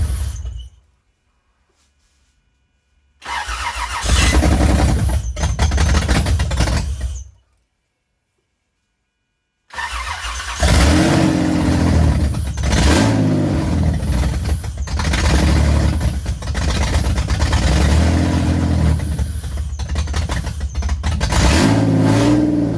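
A Toyota Land Cruiser Prado 120 engine, newly swapped after water damage, fires up loudly, cuts out, then starts again and keeps running with rising and falling revs, close and steady.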